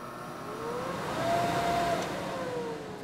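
A blower motor starts up on an inverter, giving a quiet, steady mechanical hum with a faint whine that rises in pitch, then holds and fades slightly, with no speech.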